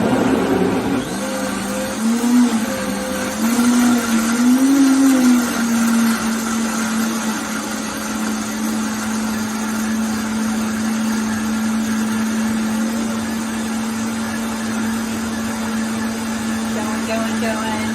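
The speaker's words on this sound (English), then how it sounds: "put the lid on, the trusty Vitamix" A Vitamix blender whirs a green veggie smoothie with the lid on, its motor ramping up briefly and then holding a steady, loud drone close by for a long stretch with no talking.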